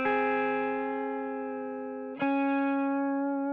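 A sustained, warm instrument tone with a gritty saturated edge from about 10% saturation in Ableton rings out, slowly decays, then is struck again and holds.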